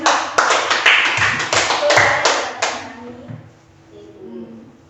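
A short round of classroom applause, sharp close claps for about three seconds that fade out, with voices around it.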